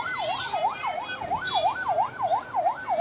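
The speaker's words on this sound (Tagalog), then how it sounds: "Ayan na yung bumbero." A fire truck siren at a fire in Bagong Barrio West, Caloocan City, sweeps up and down in a steady, rapid cycle, loud and close, with traffic rumble underneath.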